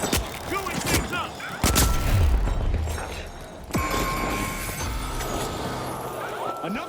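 Grenade blasts and gunfire in the game show arena shooter The Finals, with heavy booms and sharp cracks layered over a busy, loud mix of game effects and an announcer's voice.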